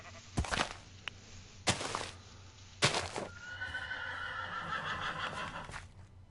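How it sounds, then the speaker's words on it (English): Panicked horse in the video game Minecraft neighing in three sharp, loud whinny bursts, followed by a longer, wavering high whinny, with no talk over it. "The horse has panicked."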